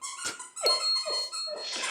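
A dog chews a squeaky toy, producing several shrill, wavering squeaks in quick succession, close and fairly loud, with soft breathy noise between them.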